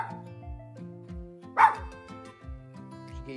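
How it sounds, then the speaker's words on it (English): A small toy poodle lets out a string of short, insistent barks and yips at close range, about one every half second, with one sharper yelp near the middle. "Wow, what an impatient little dog."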